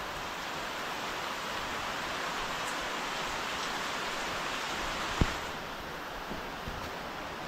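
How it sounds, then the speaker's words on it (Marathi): Heavy monsoon rain falling in the Konkan countryside near village houses: a dense, steady wash of downpour noise with no letup, broken only by one brief sharp knock near the end. "कोकणाकडे पावसाने सुरुवात केला."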